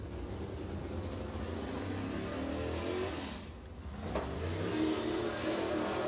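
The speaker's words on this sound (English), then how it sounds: "Next car out onto the speedway, it's going to be the 30 of Ryan King" A crate-engine race car with a Warrior chassis laps the Crossville speedway during qualifying, its engine roaring steadily, dipping briefly as it passes, then surging again as the car accelerates.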